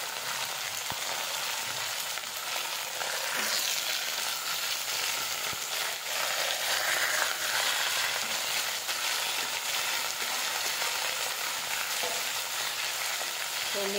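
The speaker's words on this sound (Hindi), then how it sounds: "और सारी वेजिटेबल्स को अभी ही डाल देंगे एक साथ और अच्छे से इसे भूनेंगे।" Mixed vegetables such as cauliflower, potato, peas and eggplant frying in a pan give a steady, dense sizzle with soft crackle that stays even and fairly close throughout, with no talking.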